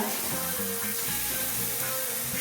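Turmeric, dried red chili powder and cumin powder sauté in oil with a constant, even hiss and sizzle, closely miked and fairly loud, ending in a brief clatter, without speech.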